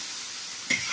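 Sliced cabbage stir-frying with salted mushrooms in a hot wok gives a steady, close hiss of sizzling, broken near the end by a single brief scrape or toss of the spatula.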